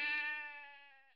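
A single sheep bleat rings out, a clear tonal cry that starts strong and slowly trails off over about a second, heard alone.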